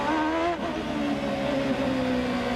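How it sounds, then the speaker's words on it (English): Honda-engined CART race car at the Long Beach Grand Prix, its engine droning loud and close in low revs in second gear, a steady tone that holds across the whole clip. "You can hear him working that Honda engine in the low RPM band in 2nd gear"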